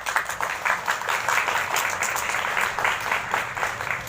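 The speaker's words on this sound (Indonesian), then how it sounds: "Tepuk tangan untuk mereka." Students and audience clap at a school Independence Day ceremony in Indonesia, a steady crowd of hands applauding continuously and moderately loud at an outdoor assembly.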